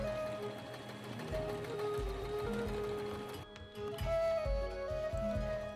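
A sewing machine runs in steady bursts stitching a quick busk pocket into Regency long stays, a corset, with rapid mechanical whirring that pauses briefly near the middle before resuming, close and fairly loud.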